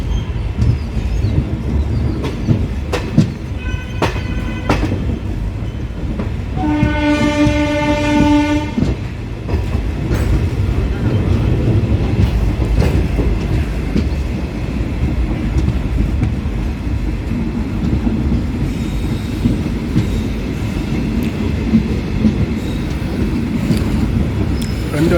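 The Mannargudi to Mayiladuthurai unreserved express train rumbles along on its first run, a continuous loud rolling roar with clattering wheels and a long horn blast partway through.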